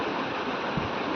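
During a household puja, clean water is poured to wash a woman's feet. It makes a brief, continuous splashing rush at close range, with no speech.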